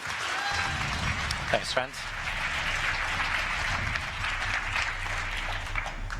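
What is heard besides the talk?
audience applause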